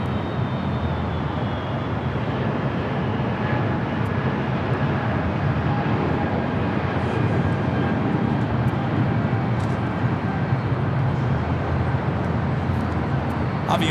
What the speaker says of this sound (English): Avianca flight heading to San Salvador. It's an A320 Neo, flight 525.